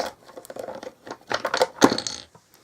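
Small hard stamping blocks clatter and rattle against each other in a plastic container, in several quick bursts of knocking and shuffling.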